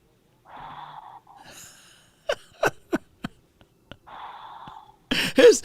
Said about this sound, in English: His snores went from a hard growl to a